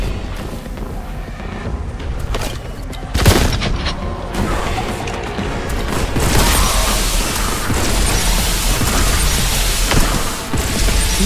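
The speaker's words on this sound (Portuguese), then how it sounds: "Granada." Explosions and gunfire from Warhammer 40k Boltgun, including a grenade blast, boom out in a dense, loud, continuous stream of combat noise with a sharp burst about three seconds in, followed by sustained chaotic shooting.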